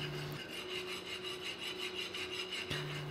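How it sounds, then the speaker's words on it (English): A rasp filing the metal bevel of a reproduction Sutton Hoo axehammer, heard as faint, continuous rough scraping strokes with a steady background hum. "Now here you can see that I am actually rasping properly."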